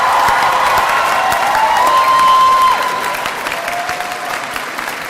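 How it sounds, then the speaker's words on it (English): A large hall of university graduates at a Glasgow graduation ceremony applauds and cheers loudly and steadily for their families and friends, the dense clapping fading slightly toward the end. "That wasn't a bad Glasgow cheer"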